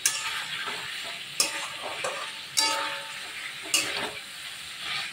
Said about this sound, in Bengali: এবার না আমি মাছগুলো দিয়ে একটু কষিয়ে নেব